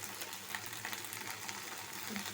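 Greens sizzling in a pan after tempering, a faint continuous crackling fry with small pops, steady and fairly quiet throughout.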